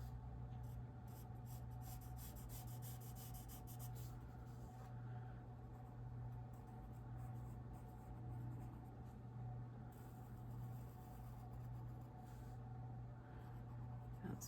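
A pen scratches across paper while small cat paws are drawn, steady faint rubbing strokes with quicker bursts early on, close against a low constant hum.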